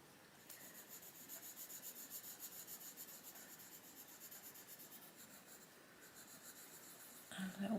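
Colouring pencil shaded lightly across paper in an adult colouring book, a steady soft scratchy rubbing in quick back-and-forth strokes, close and fairly quiet, alone without speech.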